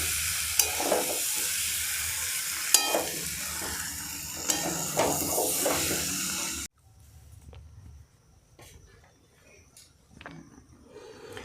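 Boiled mango pieces for mango pickle sizzle in a pan while being stirred, with steady frying hiss and scraping strokes that cut off abruptly partway to a much quieter stretch with faint clinks.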